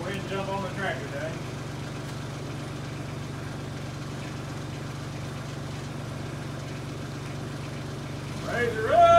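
A tractor engine runs at a steady low idle at a family reunion hog roast, a constant rumble that swells louder near the end, with people talking over it.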